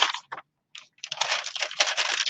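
Baking paper crunched by hand while a handmade journal is assembled: a couple of short crackly bursts, a brief pause, then sustained close-up crinkling.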